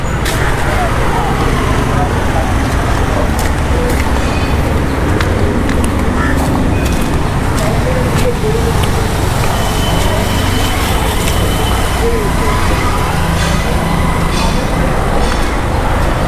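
Continuous roadway traffic noise rolls past someone walking beside a busy road, with vehicles passing close by in a loud, steady wash and occasional sharper sounds on top.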